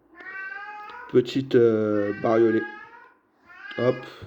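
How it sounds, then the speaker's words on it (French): A house cat meows loudly and insistently indoors, several drawn-out, wavering cries in a row, with someone speaking briefly between them. "Le chat, bon, des fois il gueule, il crie."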